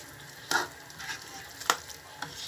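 Beef tripe sauce sizzling quietly in a pan while a spoon stirs it, with a few distinct scraping strokes against the pan over a low, steady fry.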